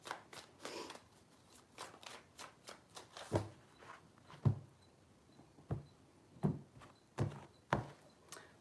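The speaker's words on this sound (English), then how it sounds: "Three shuffles for Cancer, please." Tarot cards being shuffled by hand: a series of short, crisp riffling bursts and soft slaps spaced irregularly, quiet and close, with no talking.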